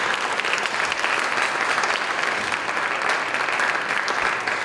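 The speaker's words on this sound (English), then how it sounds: "A round of applause." Steady, full audience applause follows a school jazz band's tune at a spring concert, a dense wash of clapping hands sustained at even loudness from start to finish.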